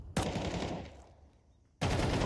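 Counter-Strike gunfire sprays in two loud bursts of rapid automatic shots, separated by a short lull with fainter distant shooting, heard close and with no voices.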